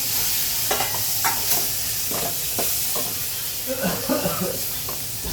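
Chopped tomato frying in oil with chili for Karnataka rasam, a soft steady sizzle under several spoon scrapes and stirs, with brief voices murmuring near the end.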